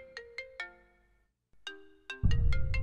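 A mobile phone ringtone sounds indoors with a repeating tonal melody of distinct rising notes, a brief pause, then more notes, ending under a sudden burst of louder rustling noise.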